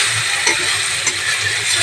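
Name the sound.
ginger garlic paste frying in a pan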